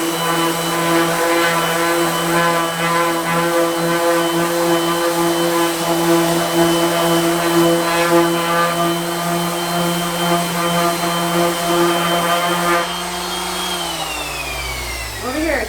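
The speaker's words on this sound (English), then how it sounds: "I'll sand a little bit longer with the 220." An epoxy resin tray is sanded smooth with 220-grit sandpaper, a loud, steady motorized whine with a strong hum that runs unbroken for about thirteen seconds before the pitch drops and winds down.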